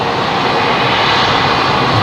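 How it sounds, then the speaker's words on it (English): Loud, steady jet engine roar from a Boeing 737 being pushed back at Brisbane Airport, a broad continuous rumble and hiss that stays close and unbroken throughout. "the 737 here that's pushing back"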